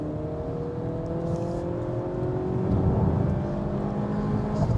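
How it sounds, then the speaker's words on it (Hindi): A Mercedes-Benz GLC 300 SUV engine revs under acceleration from inside the cabin, a steady droning hum whose pitch climbs gradually and swells louder toward the end. "अब वापस से रेस देते हैं।"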